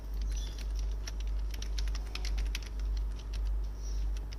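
A username is typed on a computer keyboard as a quick, light patter of keystrokes arriving in short bursts, close and fairly quiet over a steady low hum, with no one talking.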